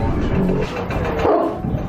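A guard dog barks repeatedly amid a busy, noisy scene with a voice talking over it, the barks close and mixed into the general din.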